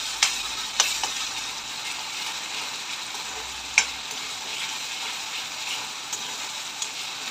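Green masala paste and salt being stirred in a sizzling cooking pan, a steady frying hiss punctuated by a few sharp spoon scrapes and clicks against the metal, close by with no talking.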